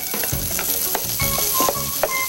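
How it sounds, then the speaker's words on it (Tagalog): Ginger, garlic and onions sautéing in oil for a Filipino ube kinampay soup, a loud continuous sizzle with scattered clicks and scrapes of stirring, no voices. "Igisa ang luya, ang bawang at sibuyas."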